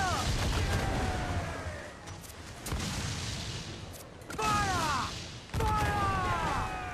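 Ship cannons firing in Assassin's Creed IV, a volley of heavy booms in several loud bursts with whistling shots trailing off after some of them, over a constant roar of sea-battle noise.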